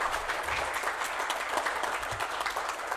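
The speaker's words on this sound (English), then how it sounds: "A big round of applause for CMD Shri Nand Lal Sharma ji." Full, continuous applause from the audience at the SJVN Drishti Conclave 2022, honouring CMD Shri Nand Lal Sharma, dense and even for the whole stretch with no voice over it.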